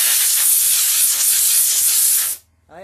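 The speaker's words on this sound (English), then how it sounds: "that stuff that you spray on your snowblower to help the snow to stop, not stick to it" A continuous hissing aerosol spray onto a snowblower, close and loud, lasting a couple of seconds before cutting off abruptly.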